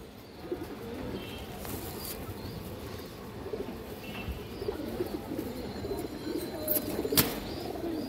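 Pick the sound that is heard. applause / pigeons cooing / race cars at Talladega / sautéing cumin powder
pigeons cooing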